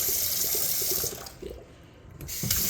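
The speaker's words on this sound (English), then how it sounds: "Just open them up, let them flow." A cold-water faucet fed by a well pressure tank runs open to purge air, a rushing hiss of water that sputters and drops briefly before surging back strongly.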